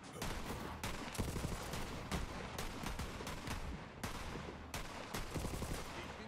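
Semi-automatic gunfire in Borderlands 3, a steady run of sharp, evenly spaced shots that keeps up with only brief pauses, loud and close, with no talk over it.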